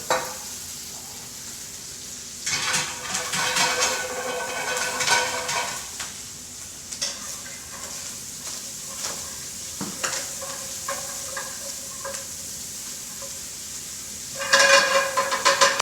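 Wild ramps caramelizing in a pan give a steady close sizzle and frying hiss, broken by bursts of stirring and scraping against the pan around three seconds in and again near the end.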